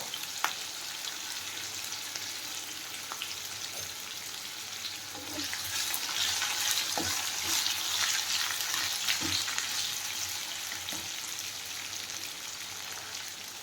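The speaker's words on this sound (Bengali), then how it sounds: "আলুটা একটু নুন দিয়ে ভাজলে কি হয় আলুটার মধ্যে নুনটা যায়" Potatoes fry with salt in a pan for dhokar dalna, giving a continuous crackling sizzle like light rain that swells louder midway, with occasional small stirring knocks and no voices.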